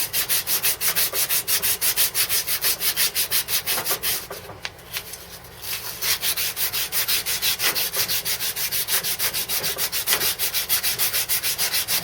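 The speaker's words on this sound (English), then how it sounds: "Just take a little bit of your emery cloth, sand cloth." Emery cloth rubs a pipe and fitting for a hot water boiler install, making fast rhythmic scraping strokes that run steadily and loudly, with a brief pause midway.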